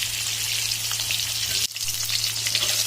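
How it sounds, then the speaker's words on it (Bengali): Eggs fry in hot oil with a steady, dense, close-up sizzle and crackle throughout, with a brief dip partway through and a constant low hum beneath. "ডিমগুলো ভালো করে ভেজে নিয়েছি"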